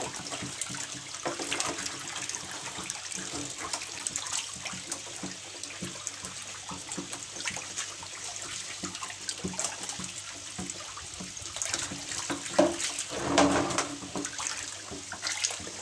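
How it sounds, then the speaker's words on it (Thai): Tap water runs steadily into a basin for about sixteen seconds, a continuous close splashing rush with small surges and no voices, used to rinse away leftover food scraps in a fish-keeping setup. "เดี๋ยวเราก็จะมาเปิดน้ำนะคะ เปิดน้ำเพื่อไล่เสร็จ อาหารเศษที่ป่าที่ยังลงเหลืออยู่นะคะ"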